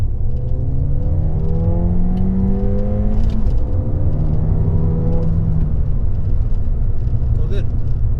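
A Ford Fiesta ST with a short shifter pulls in second gear, its engine droning loudly with a steady rising whir and rumble from inside the cabin.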